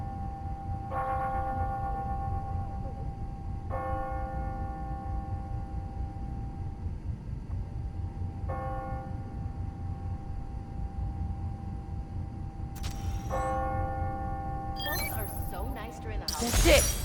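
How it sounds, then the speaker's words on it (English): Church bells ringing on the hour in the Marvel's Spider-Man: Miles Morales game, several spaced tolls with long ringing decays over steady city ambience, ending in a louder cluster of sounds. "When I hear those bells"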